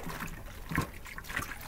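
A baseball cap is pushed down into lukewarm water in a cap-washing holder, giving faint close splashes and dribbling trickles with no talk.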